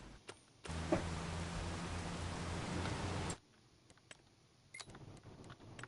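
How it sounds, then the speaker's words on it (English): Rain falls in Farming Simulator 25 over a cotton field, a dense hissing downpour that starts suddenly, holds steady for a few seconds, then cuts off, leaving a quieter background with scattered light ticks. "I still hear rain."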